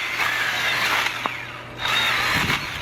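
A small portable electric chainsaw cuts through wood, its motor whining loudly in two long bursts with a brief drop between them and a short knock partway through.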